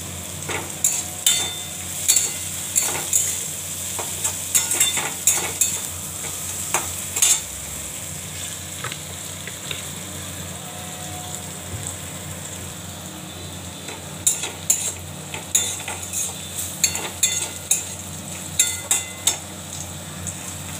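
Sliced bitter gourd sizzles steadily in a frying pan while a utensil scrapes and taps against the pan in irregular bursts of stirring, close up, with no voices.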